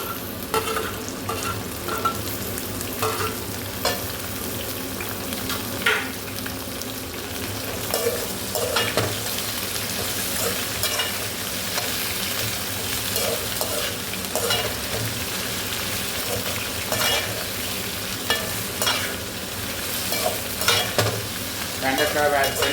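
Bitter gourd and okra fry in oil while being stirred constantly, giving a loud, close sizzle broken by repeated scraping and clacking of a spoon against the pan, with no talking.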